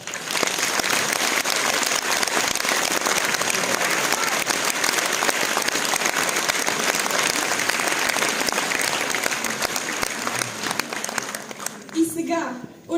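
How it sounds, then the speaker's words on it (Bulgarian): Audience applause at a charity folk music concert in Stara Zagora, Bulgaria, with steady, dense clapping from a large hall crowd for a folk ensemble, tapering off as the clip closes. "И сега очакваме още веднъж вашите аплодисменти"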